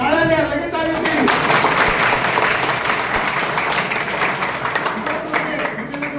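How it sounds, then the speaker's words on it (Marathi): Students at a Shri Shivaji Vidyalaya classroom session clap together in a steady, dense round of applause that fills the whole stretch, with some voices and chatter mixed in beneath the clapping. "टाळ्या द्या, लगेच आली होती."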